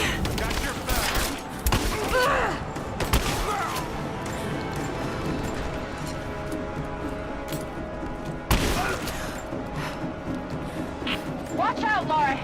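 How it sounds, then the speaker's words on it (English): Covering gunfire in Rise of the Tomb Raider rattles in dense volleys with crashes and impacts over a steady game soundscape, while voices talk throughout. "Give me covering fire."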